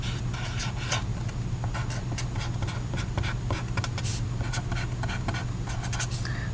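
Chalk or marker writing math on a board, a steady run of short scratchy strokes and taps over a constant low hum, close and fairly even throughout.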